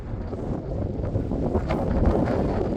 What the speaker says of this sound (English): Oh, she's windy up there. Windy and cold.